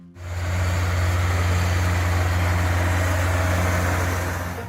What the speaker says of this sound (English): the deep engine sound of the Allis-Chalmers 190 XT sounded like a work song, solid, steady, and full of hope